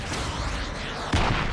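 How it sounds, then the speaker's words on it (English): A rocket blasts and explodes in the video game Riddick: Assault on Dark Athena, landing as a sudden loud boom partway through over a dense, steady wash of game noise. "you just fired a rocket into my face"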